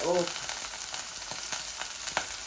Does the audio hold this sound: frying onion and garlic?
yes